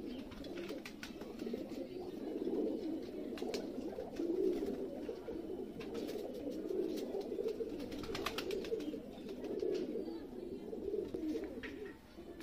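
Many pigeons coo continuously inside a loft, a dense rolling chorus of overlapping low calls that holds steady and fairly close throughout, with no talking.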